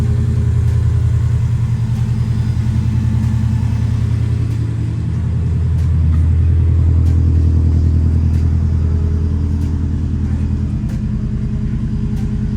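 A 2021 Subaru STI fitted with a Grimmspeed Dry-Con panel air filter idles steadily. Its low, throbbing rumble holds at an even loudness throughout, with faint ticks over it and no voices.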